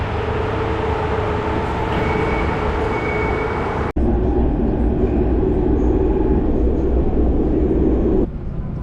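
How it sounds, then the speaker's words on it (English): A tram in Volgograd rolls along with a continuous rumbling drone and faint whine, a sharp edit-like break midway, then the rolling noise continues before quieting. "it's not a metro, it's a tram"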